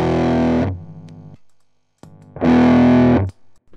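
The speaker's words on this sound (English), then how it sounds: "what you're hearing is the front end of the amp being pushed a little bit, and also, of course, some distortion from the pedal" Loud distorted electric guitar chords through a Big Muff fuzz pedal pushing the amp's front end, struck twice with sustain and a short gap between.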